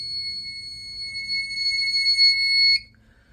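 A fire alarm system sounds during a test: a loud, steady high-pitched electronic tone with a low rumble underneath, cutting off abruptly near the end and leaving near silence.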